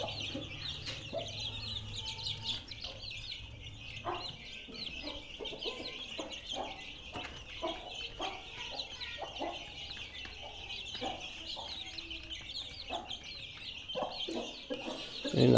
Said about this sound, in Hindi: ये देखें जी माशाल्लाह से मलका के चूज़े